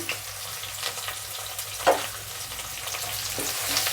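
Onion pieces and curry leaves frying in a pan, giving a soft, even sizzle with light stirring and a single sharp clack near the middle.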